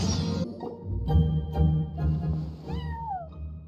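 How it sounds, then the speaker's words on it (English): A cat meows in the Genshin Impact video game, giving a few close, drawn-out meows with a rising and falling pitch over a soft musical background. "Aw, that's a good kitty, Sir Pouncelot."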